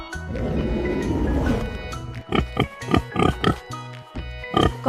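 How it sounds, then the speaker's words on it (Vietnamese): A pig grunts and oinks in a run of short, close, loud bursts that follow a stretch of rougher continuous snorting. "Con lợn."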